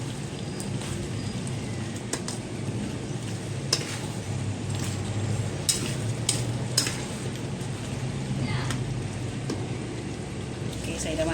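Carrot and tomato frying with beef in a black pepper sauce, a steady close sizzle with scattered sharp crackles and spatters, someone speaking over it at times.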